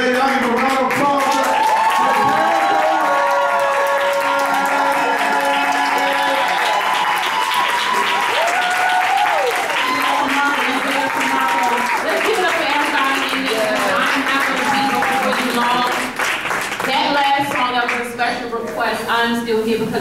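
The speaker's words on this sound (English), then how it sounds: "I give a round of applause." An audience at a gospel mime dance event applauds continuously, the clapping blended with voices and tonal sounds that run over it the whole time.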